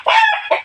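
A chicken gives a short, loud two-part cluck close to the microphone, sharp and clear with no talk over it.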